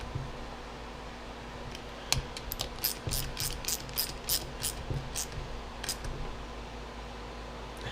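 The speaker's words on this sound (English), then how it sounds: "I'm going to tighten one of these down. Get it all cranked down." Ratchet tightening bolts on an aluminum 2004 KTM 125SX engine during a bottom-end rebuild, a quick series of crisp close clicks in short bursts over a steady background hum.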